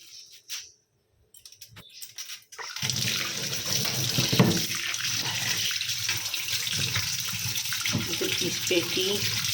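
A kitchen tap runs steadily into a sink as katla fish is washed, the water starting abruptly after a few seconds of quiet and then pouring on continuously and close.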